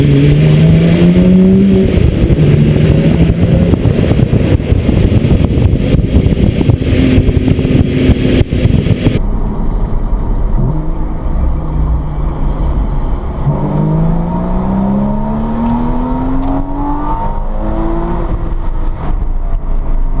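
A Lotus Exige V6's engine and exhaust drone loud and steady throughout, rising and falling in pitch as the car accelerates and shifts through gears.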